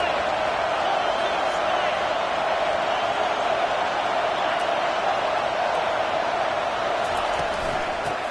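Stadium crowd roars for a third-down play in a Madden 25 / NCAA 25 college football video game, a loud, steady wall of cheering that holds without a break from start to finish.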